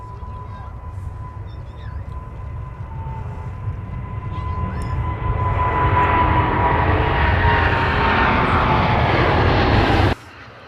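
Heavy Boeing 777 jet departing Minneapolis–Saint Paul airport, a broad engine roar swelling steadily louder as it passes, with a faint steady tone beneath, then cutting off abruptly near the end.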